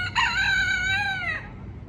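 A fighting rooster crows once, close and fairly loud, a single drawn-out call of about a second over a low background hum before fading to quiet.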